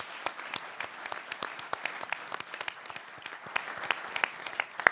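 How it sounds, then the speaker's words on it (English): An audience at an environmental webcast event applauds panelists and winning campuses, a moderate, sparse clapping with individual sharp claps standing out over a steady patter. "let's give our panelists first another round of applause, and the winning campuses a round of applause"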